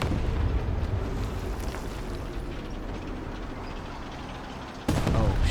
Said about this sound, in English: Wow, another artillery strike.